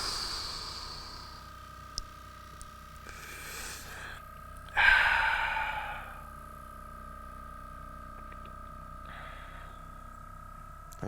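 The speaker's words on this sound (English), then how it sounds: "Deep exhales." Slow, deep breaths pushed out during hip mobility work, with a few soft breathy exhales and one stronger, louder rush of air near the middle against a quiet background.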